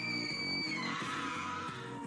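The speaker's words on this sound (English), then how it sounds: "Ellie stayed downstairs until Janice heard a loud scream." A loud, shrill scream effect rings out in a Roblox horror story, high and sustained at the start before fading into a dense, music-like backing that continues to the end.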